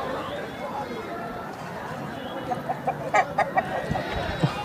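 Roosters at the Balrampur chicken market, West Bengal, give a few sharp clucks and calls toward the end over a busy crowded background of market noise and voices.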